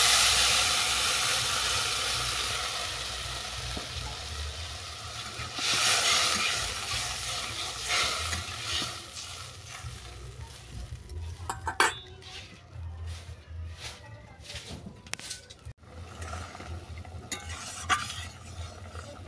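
Food is stirred in a pan on the stove and water is poured in, giving scraping stir strokes over a frying sizzle and hiss, with louder splashes and bursts midway, close up with no talking.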